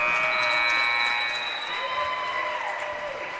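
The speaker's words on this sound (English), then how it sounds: "The buzzer sounds, and we've got 1 quarter in the book." A long, sustained buzzer tone ending the first quarter of a game sounds over the roar of an indoor crowd, holding steady before tapering off near the end.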